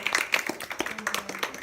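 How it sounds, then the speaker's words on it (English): Students at a robotics team event clap for one another in a short burst of quick, overlapping hand claps that sounds like a small room's applause. "let's clap for each other"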